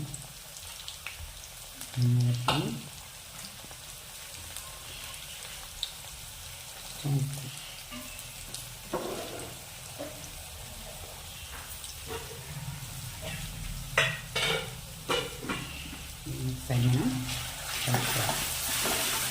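Potatoes fry in a little oil with curry spices, a low sizzle punctuated by irregular stirring scrapes and occasional clatters, some louder bursts mid-way and near the end.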